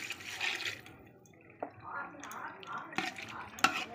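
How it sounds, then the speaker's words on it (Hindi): Water from a small pot poured into fried masala in a cooking pot, giving a splashing, sizzling wash of sound with a few clinks of utensils, close by and moderately loud. "अब हम इसमें पानी डालेंगे एक लोटा हमारी सब्ज़ी गलने के लिए।"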